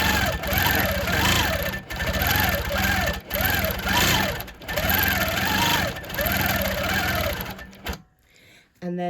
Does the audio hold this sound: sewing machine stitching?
yes